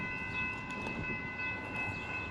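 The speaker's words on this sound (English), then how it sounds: "There's our second freight of the day." A freight train passes the Downers Grove rail line, with a steady rumble and rolling wheel noise plus a sustained high tonal whine, loud and close throughout with no talking.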